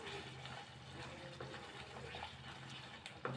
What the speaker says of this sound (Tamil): இப்போ இதில் தண்ணி சேர்க்குறேன்.